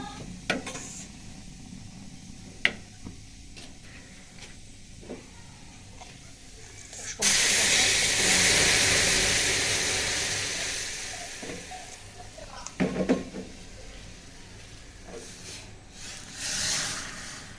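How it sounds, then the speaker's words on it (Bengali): Spice paste for tempering hits hot cooked dal with a sudden loud, broad sizzle that fades slowly over several seconds, followed by stirring clatter and a second, softer burst of hiss. "ডালটা বাগার দিয়ে নিব, যে এই জন্য কিন্তু আমি পেস্টটা করছি।"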